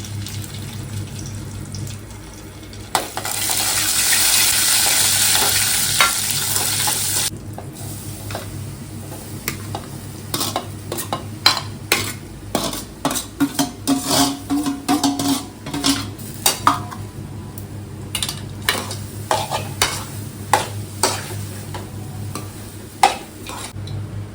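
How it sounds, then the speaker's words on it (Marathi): Cashew pieces, almond pieces and raisins sauté in a pan during festive home cooking, with a loud steady sizzle at first, then a run of sharp stirring scrapes and clinks against the pan, with no talking. "आपण काजू काजूगर बदामाचे तुकडे आहेत आणि हे मनुका हे सगळं थोडं परतून घेऊया"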